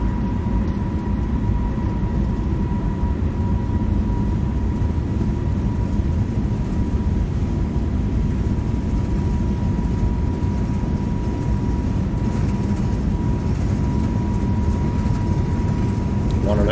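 An Airbus A321neo's jet engines spool up toward takeoff thrust in a flight simulator, a loud, dense, steady roar with a faint sustained tone running through it.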